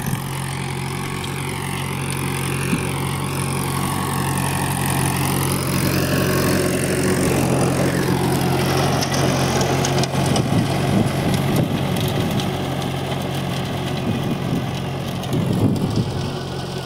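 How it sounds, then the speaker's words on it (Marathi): A Mahindra tractor powers a Mahindra rotavator through a field, producing a steady, continuous engine drone with a churning rumble that holds evenly throughout. "आता रोटर चालू आहे। तर पाहू शकता तुम्ही महिंद्राचा ट्रॅक्टर आणि महिंद्राचं रोटर।"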